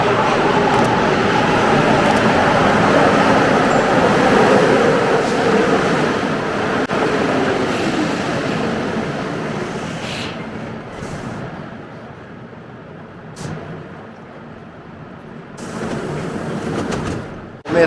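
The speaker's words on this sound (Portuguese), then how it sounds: "O metrô está chegando, vamos lá!" A Mexico City metro train rumbles and rolls into the station with broad, steady noise that gradually fades, then quiets with a few brief bursts near the end.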